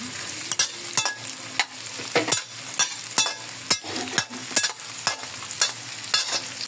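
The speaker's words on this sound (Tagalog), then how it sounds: "Sama na natin prito yung sili natin." Chili peppers fry in a pan for a Davao-style balbacua, with a steady sizzle broken by sharp, regular clicks and scrapes of a utensil stirring against the pan about every half second.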